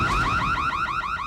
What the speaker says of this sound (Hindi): ये तो चोर अलार्म है।